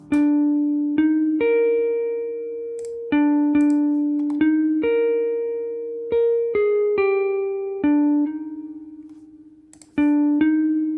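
Clean, dry plucked guitar notes in a simple melodic line, each note ringing and decaying plainly, with no reverb or other effects.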